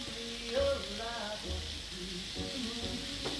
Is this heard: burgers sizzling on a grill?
yes